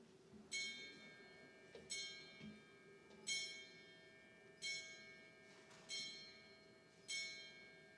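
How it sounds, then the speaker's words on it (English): A ship's bell rings out eight bells in four evenly spaced pairs of clear metallic strikes, each note ringing on and decaying before the next pair, heard at a moderate distance in a quiet hall with no talking. "give me 8 bells"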